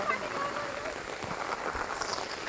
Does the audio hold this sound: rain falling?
yes